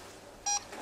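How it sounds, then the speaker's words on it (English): A short, clear electronic beep from an EMF meter sounds once, high and thin, against a quiet background in hotel cellars. "Make the beeping stop. Make the beeping start."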